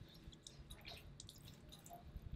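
Water dripping and trickling from a gently squeezed wet wool diaper cover, a soft, faint patter of small drips with no talking.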